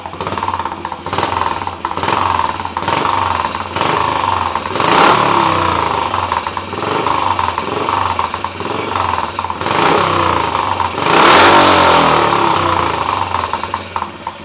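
A Royal Enfield 350 Sprinter motorcycle engine with higher compression revs repeatedly up close, loud rhythmic blips rising and falling over a steady idle, with one sharper rev near the end.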